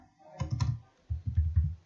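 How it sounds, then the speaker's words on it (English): Keys clatter on a computer keyboard while typing in Notepad, two short bursts of quick, soft clicks separated by a brief pause, close and moderately quiet. "I am typing here"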